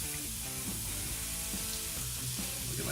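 Onions sizzle steadily in a cast iron pan, a continuous bright frying hiss with small pops, close and fairly loud with no talking.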